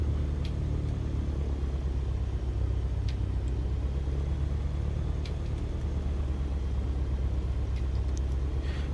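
A Cessna 152 light aircraft engine idling at 1000 RPM, a steady, continuous low rumble heard close up with no break, joined by a few faint clicks.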